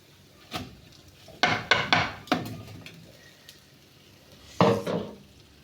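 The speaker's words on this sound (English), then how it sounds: "Well mixed, that is, by stirring very well." Rice being stirred in a pot while cooking jollof rice: a handful of close, loud wooden scraping and knocking strokes in quick bursts, with quiet pauses between them.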